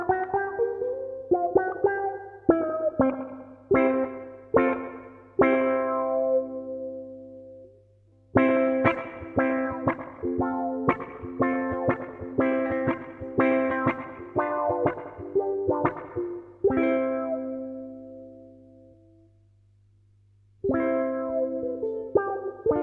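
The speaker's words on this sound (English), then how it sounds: "So this is a Flight tenor ukulele with a little bit of reverb and the wah pedal again" Flight tenor ukulele played through a Donner Dynamic Wah pedal with a little reverb: strummed and plucked phrases sweep with vocal-like wah filtering, bursts separated by short pauses and a final gap before the last chords, over a faint steady hum.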